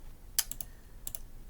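Keys tapped on a TI-89 graphing calculator make a few close, crisp clicks in two small clusters, alone and fairly quiet.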